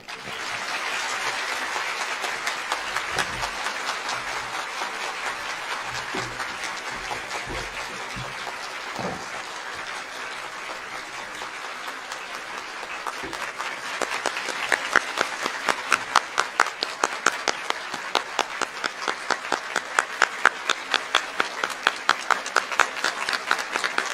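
An audience applauds at the close of a Gujarati motivational talk: a steady, dense patter of many hands that stays even for a long stretch and grows slightly sharper and more accented toward the end.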